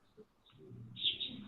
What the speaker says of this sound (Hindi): किसी ने अपना माइक ऑन किया हुआ है जिसकी वजह से जो है वो परिंदों के चहचहाने की आवाज आ रही है